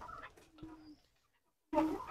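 Sonali breed chickens on a farm fed cut grass give brief clucking calls, with a sustained low call at the start and a louder burst of clucks near the end after a short silence.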